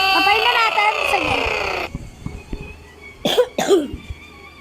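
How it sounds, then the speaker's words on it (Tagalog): Two sharp, close coughs in quick succession, following a stretch of music that cuts off abruptly. "Sorry lang guys, may ubo ko."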